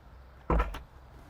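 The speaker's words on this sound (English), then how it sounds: "an easy entry and full door opening from our Merlo cab." Cab door of a Merlo MF42.7 telehandler swinging open, a single short clunk and rattle close to the microphone, with no talk.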